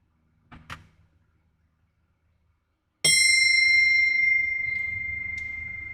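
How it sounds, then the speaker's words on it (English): After a couple of soft knocks, a bell is struck once and rings out loudly, its bright tone lingering and slowly fading. "I'm going to ring my bell"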